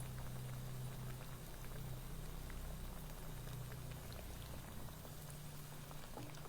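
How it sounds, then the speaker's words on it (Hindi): Tikki patties shallow-fry in hot oil, a steady close sizzle and bubbling crackle that holds evenly for the whole stretch with no voices. "पहले तेल को अच्छी तरह आने देना है, फिर हमें टिकिया को रखनी है, वरना टिकिया फट जाएगी"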